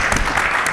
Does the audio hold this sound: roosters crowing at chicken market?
no